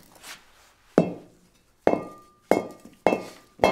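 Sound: ceramic sculpture piece dropped and cracking

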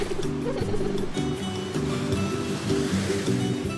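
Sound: big sea waves at a beach

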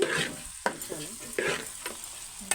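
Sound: chili powder frying and being stirred in a pan

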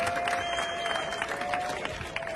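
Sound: applause from the audience

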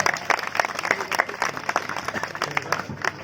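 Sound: crowd applause at Shiv Jayanti festival

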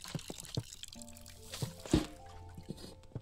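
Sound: watering plants in the video game Botany Manor

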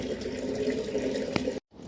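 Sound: filling water from a tap

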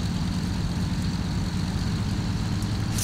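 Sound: Brewster Buffalo lowering landing gear, X-Plane video game

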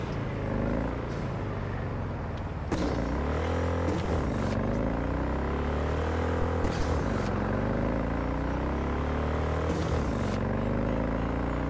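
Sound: car exhaust backfiring in video game

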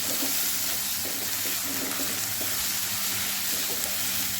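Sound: stirring turmeric into a pan on the gas stove

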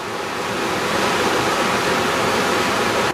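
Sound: fast-flowing river water

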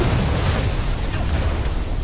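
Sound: grenade explosion in the video game Cyberpunk

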